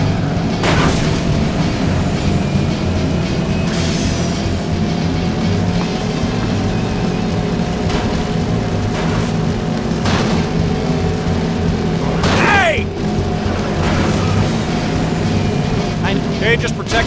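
A crash in the racing video game Cars Race-O-Rama at Octopia: a steady roar of engines and crowd noise fills the scene, broken by a few heavy booms and one sharp metallic impact late on, with a voice speaking over it.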